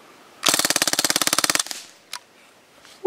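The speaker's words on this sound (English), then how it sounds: "Now let's rip it in full auto." A Panther Arms BB gun fires a fast full-auto burst of about twenty sharp, evenly spaced snaps lasting roughly a second, then stops, followed by a couple of faint clicks.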